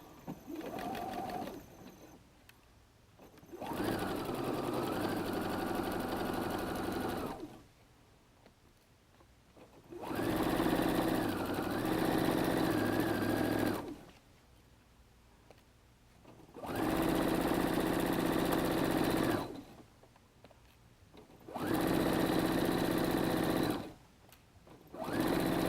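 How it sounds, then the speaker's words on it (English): A sewing machine stitches a seam through two layers of faux suede in four separate runs, each a few seconds of steady close whirring, with quiet gaps in between. "we're going to sew on that 1/2 inch sewing seam line"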